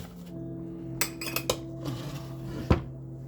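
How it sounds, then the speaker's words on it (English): Apples being stirred with sugar and lemon juice in a bowl, a few scattered clinks and scrapes of a utensil against the dish over a low hum, close and quiet with no talk. "Stir it all up. Get all the apples coated with the sugar and lemon juice."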